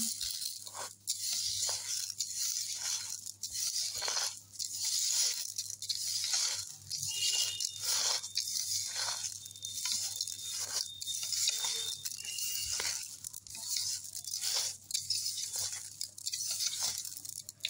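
Puffed rice is mixed by hand with salt, sugar and coconut, making repeated soft crunching rustles in a steady rhythm, close and fairly quiet.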